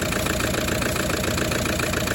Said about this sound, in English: a diesel engine, a 1kd FTV that would normally be running smooth and flat